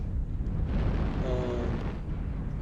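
Heavy airstrike explosion in a mech combat video game, a loud, dense roar of blast noise that rumbles on for a couple of seconds with no talking.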